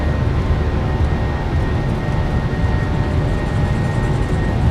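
Roaring engines of a PMDG 737-800 airliner at takeoff power in Microsoft Flight Simulator 2024, a loud, steady broadband rumble with a constant hum that holds evenly from start to finish, with no voices over it.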